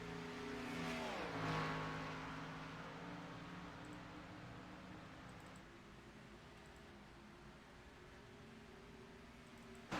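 Race cars roar around a track, one engine surging loud and rising in pitch before settling into a steadier drone, while others keep up a continuous, more distant engine noise.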